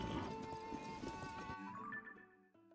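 Rhythmic hoofbeats of a galloping horse in The Legend of Zelda: Tears of the Kingdom over the game soundtrack, steady clip-clop pattern that fades out near the end.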